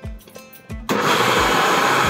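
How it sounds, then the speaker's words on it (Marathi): An electric mixer grinder abruptly starts up and runs loud and steady, whirring as it grinds ingredients with a little water for idli chutney, after a few soft knocks and clatters. "आता ते मिक्सरला लावणार"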